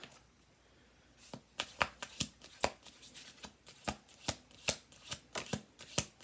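Tarot cards are handled and laid down on a table, making a quiet series of crisp snaps and flicks at a steady, uneven rhythm after a near-silent start.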